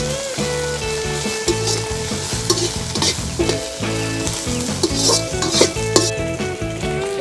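Green chilli chicken in Andhra style fries loudly in a pan, with a constant close sizzle and frequent scraping clinks of a spatula stirring against the metal.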